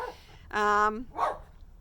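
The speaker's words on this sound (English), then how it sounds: "dog running past there and barking" A single dog bark rings out at middle distance, followed by a softer yelp, over a quiet background.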